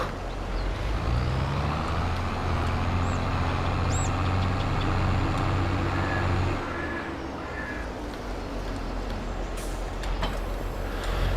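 Diesel tractor engine in Farming Simulator 22, a steady low idle with a few faint higher whines and clicks, then dropping to a quieter rumble partway through, with no talking.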